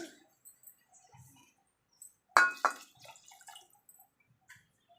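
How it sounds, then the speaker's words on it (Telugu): Water from a glass splashes briefly into rice in a cooking pot, one short quiet pour with a few small drips around it in an otherwise still kitchen. "ఇప్పుడు నాలుగు గ్లాసులు ఇలా వేసుకోవాలి"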